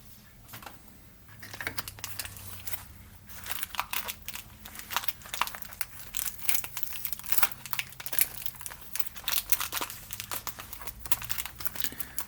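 A paper letter envelope being torn open and handled, with continuous crinkling, rustling and tearing bursts for about ten seconds after a quieter start, close and fairly loud with no speech.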